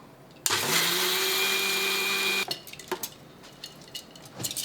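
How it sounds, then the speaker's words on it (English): A small kitchen mixer grinds a little batch of rice for an Indian lentil-and-rice batter, a loud high whine lasting about two seconds that cuts off abruptly, followed by faint clatter and handling noises. "Putting the rice into the little mixer, and you have to do it a little at a time so that you basically grind it"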